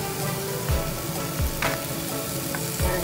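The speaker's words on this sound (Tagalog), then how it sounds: "Ilagay na natin yung bacon para magmantika." Bacon frying in a pan for macaroni gratin, a steady close sizzle and crackle with a few soft stirring scrapes, no talking.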